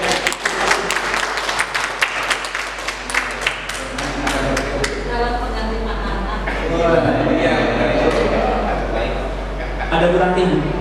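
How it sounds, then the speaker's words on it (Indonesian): Audience applause at a school curriculum talk, sharp separate claps for about five seconds that give way to a room full of chatter and laughter. "saya tepuk tangan dulu nih, luar biasa."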